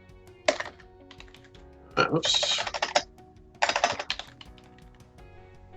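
Computer keyboard typing in three quick bursts of clicking keystrokes, close and fairly loud, with a short spoken word in between.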